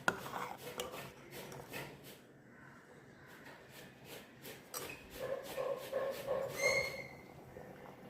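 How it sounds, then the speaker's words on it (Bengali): Taro being rubbed against a sieve for a mashed taro dish: soft, repeated rasping strokes, faint and close, with a brief squeaky scraping run near the end. "দেখো কচু এই চালনিতে আগে ঘষে নেওয়া হচ্ছে"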